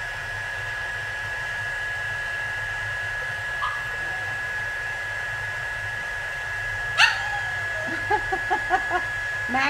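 A dog barks several times in short, sharp yelps toward the end, somewhat distant and partly masked under the steady whir of a heat-embossing heat tool running close by.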